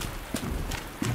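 Footsteps in the video game Resident Evil 2 Remake sound as a few soft, irregular thuds against a dim ambient background, short and fairly distant.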